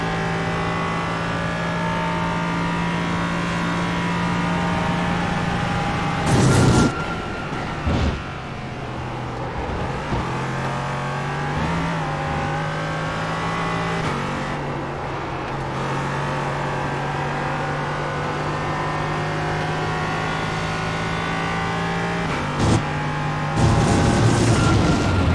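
LMP3 sports car racing at Barcelona in iRacing, the engine droning loud and steady, rising through revs with sharp gear-shift cuts and brief blips every few seconds, no talk.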